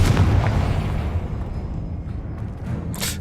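A Confringo fire spell blasts in Hogwarts Legacy as a loud, heavy explosive rumble that slowly fades over a few seconds, ending with a short sharp crackling burst.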